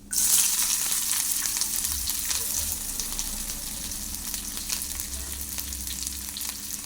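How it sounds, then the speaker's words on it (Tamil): Onions fry in hot oil for a cluster bean poriyal. A loud, close sizzle bursts up as they hit the pan, then settles into a steady crackle with occasional low stirring bumps. "இப்போ வந்து வெங்காயத்தை சேர்த்துக்கலாம்"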